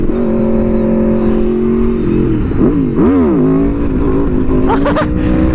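An Aprilia motorcycle engine, heard up close and loud, holds a steady drone, then swoops up and down in pitch several times as it revs and pulls away, ending in a sharp rising rev.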